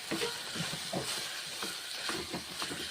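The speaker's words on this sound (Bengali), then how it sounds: "এই যে কষে নিচ্ছি চিকেন" Chicken being stir-fried with spices in a pan, giving a steady, close sizzle with soft scraping stir strokes recurring throughout, no voices.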